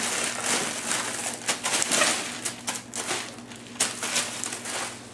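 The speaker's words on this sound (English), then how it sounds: "just dump this whole bag of ice in there" A bag of ice being dumped into a container, giving a rough crunching, clattering rush of cubes that surges in several uneven bursts, close and fairly loud.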